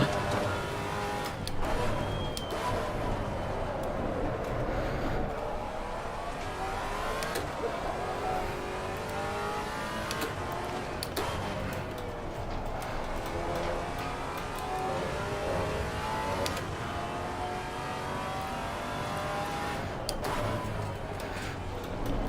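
A Maserati GT4 race car in Assetto Corsa Competizione laps Brands Hatch, its engine loud and steady with rising and falling revs through gear changes and braking, sustained throughout without talk.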